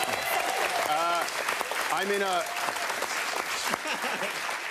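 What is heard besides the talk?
audience applause, loud clapping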